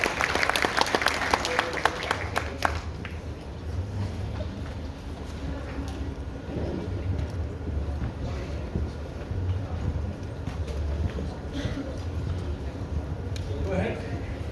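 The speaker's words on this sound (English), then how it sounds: "a big round of applause for His Excellency" Conference audience applause at the World Urban Forum in Baku, a dense crowd of clapping that swells loudly at first and then settles into a steady, rolling patter for the rest of the stretch, with a voice briefly heard over it.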